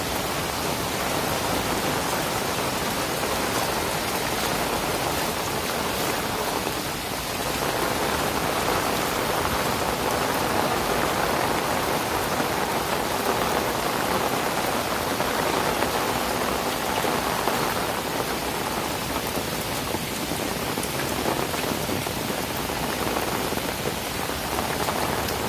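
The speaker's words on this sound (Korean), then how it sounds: "엄청나게 많은 비가 내리고 있습니다." Heavy rain pours down at a sky park, a dense, loud and unbroken hiss of water hitting surfaces that holds steady throughout, with no voices.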